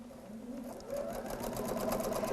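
A sewing machine runs steadily while stitching quilt pieces for a diamond-in-a-triangle block, its continuous whirring motor hum close and clear, rising slightly in pace about a second in, with no talk.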